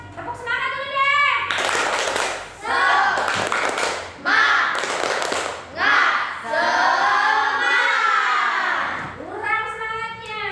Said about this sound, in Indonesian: tepuk semangat dulu deh